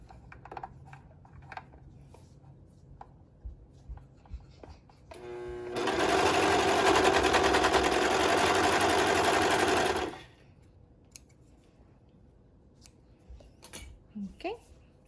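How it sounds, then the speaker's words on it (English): Serger sewing machine stitching the front and back bodice lining pieces of a dance top together, a steady loud whirring run of about five seconds, with quieter handling clicks and rustles before and after. "we're going to use a serger and attach the front of the bodice to the back of the bodice."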